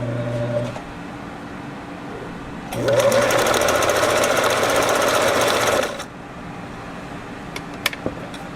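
A Singer 347 sewing machine, recently repaired with a replacement gear, runs and stitches in one steady, fast, mechanical burst of about three seconds. Quieter motor hum comes before and after.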